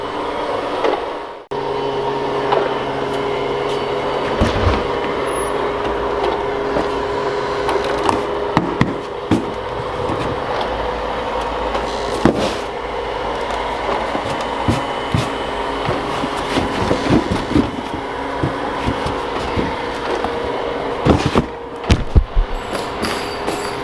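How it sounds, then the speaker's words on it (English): A vacuum cleaner drones steadily and loudly throughout, with scattered clunks and rattles over the continuous motor whine. "so I'm letting the vacuum run."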